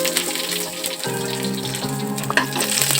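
Garlic dropped into hot oil while seasoning a squid thoran, with curry leaves and green chilli already in the pan, sizzling and crackling steadily close by with no talk.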